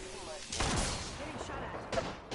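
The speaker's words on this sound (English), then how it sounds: "Taking fire, friends." Apex Legends gunfire cracks out as a couple of short bursts of shots amid game sound, with a voice speaking under the action.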